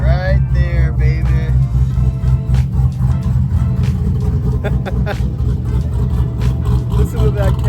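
A C6 Corvette V8 fitted with a Texas Speed Stage 3 cam idles with a loud, lopey, choppy low rumble that stays steady throughout, with a voice talking over it early on.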